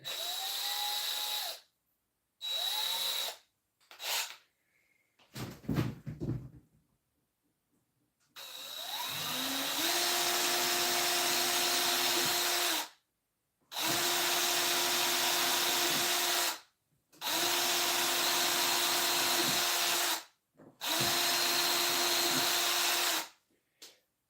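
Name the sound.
power drill drilling through wood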